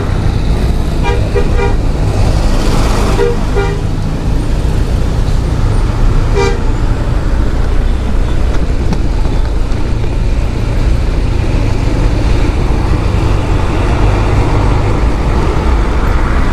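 A Honda BeAT scooter idles in a packed traffic jam on an Indonesian road near Banyumas and Cilacap, under a loud constant rumble of engines, with short horn toots near the start and another single honk a few seconds later.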